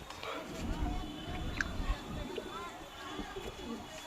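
Desi pigeons coo softly in a loft, low throaty calls faintly heard beneath someone talking, with small rustles and pecking noises around them.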